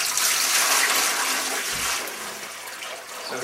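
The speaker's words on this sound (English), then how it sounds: "So here's the water flowing through" Water rushes steadily through the baffles of a fish passage, a continuous, close, broadband splashing flow with no pauses and no voices.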